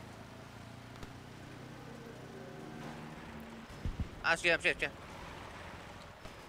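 A boat engine in the Battlefield V video game drones steadily at low pitch throughout, with a voice speaking briefly over it midway.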